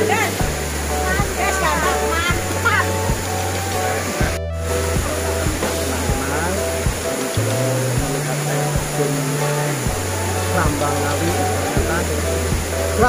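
A waterfall at Srambang Park in Ngawi, Indonesia, pours in a steady, loud, broadband rush that never lets up, with voices and other sounds layered over the constant roar of falling water.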